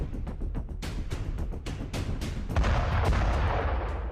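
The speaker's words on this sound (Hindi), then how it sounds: "नॉनस्टॉप बरसते बारूद से बस्ती थर्रा रही है। एक के बाद एक गोले बरस रहे हैं" Heavy booms of artillery shells land one after another in quick succession over a village in the Russia-Ukraine war, loud and rumbling, building into near-continuous shelling with deep low thuds.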